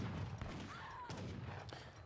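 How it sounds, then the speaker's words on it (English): Rockets firing in a video game: a rough volley of sharp launch thumps with a brief whistling streak through the middle, all over a busy, rumbling battle background. "Rockets coming in now."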